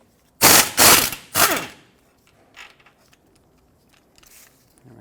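A ratchet wrench loosening a bolt on the rear brake caliper of a 2000-2005 Ford Excursion, three loud rapid clicking bursts up close, then faint scattered metal taps.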